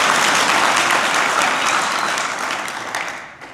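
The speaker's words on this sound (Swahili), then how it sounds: "Tujipigie makofi wote kwa pamoja." Yanga club members applaud their president at a gathering in Malawi, a dense burst of clapping from a large audience that starts loud and gradually thins and fades toward the end.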